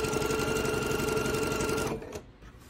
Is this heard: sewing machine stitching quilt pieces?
yes